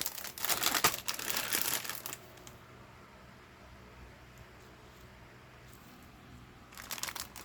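A plastic foil bag from a Master Box 1:72 British Mk. I and Mk. II tank model kit crinkles loudly in bursts at the start and again at the end, close up, with quiet handling between and no speech.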